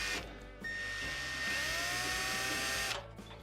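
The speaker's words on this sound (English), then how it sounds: "using a 1/4-inch nut driver, holding your hand under the burner valve, you can loosen your 1/4-inch screw here" A 1/4-inch nut driver loosens a 1/4-inch screw on the surface burner valve of a Frigidaire oven, giving a steady, close motor whine that lasts about two and a half seconds before stopping.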